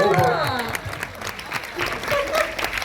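An audience at a live conversation event claps in a round of applause, a crowd of hands rising and falling beneath a voice talking over it.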